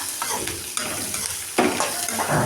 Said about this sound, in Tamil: சீரக மிளகாலாம் நல்லா இதை வறுத்தாச்சுங்க